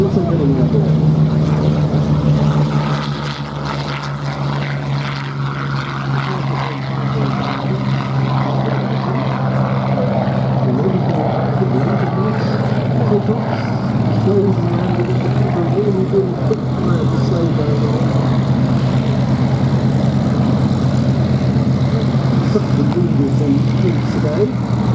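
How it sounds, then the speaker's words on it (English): Propeller aircraft engines drone loudly and steadily at a runway air show as a Hawker Hurricane and a tiny green Lavia Cosmic Wind get airborne together, a continuous throbbing roar with a commentator's voice over it. "this is a rather unusual combination because simultaneously off the hard runway, the tiny green Lavia Cosmic Wind is also getting airborne"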